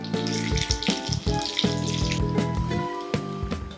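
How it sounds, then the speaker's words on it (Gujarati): Banana vada sizzles and crackles steadily in hot oil, close and fairly quiet, with occasional small clinks and bubbling pops; no one speaks. "હવે વડાને ગરમ તેલમાં તળી લઈએ"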